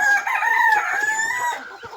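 A chicken gives one long, drawn-out crowing call close by, fading near the end.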